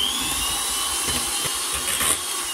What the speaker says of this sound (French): on va encore fouetter juste pour mélanger donc ce mascarpone